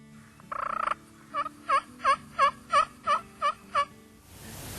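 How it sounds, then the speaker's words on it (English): Wild turkey in Kentucky woods: a short call note, then a rapid run of about eight distinct gobbles in a steady rhythm, clear and fairly close. "they'd gobble to the call"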